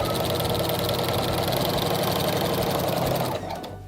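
A sewing machine quilts straight and wavy lines through a quilt with a walking foot, a fast, dense mechanical chatter running continuously up close before stopping abruptly near the end.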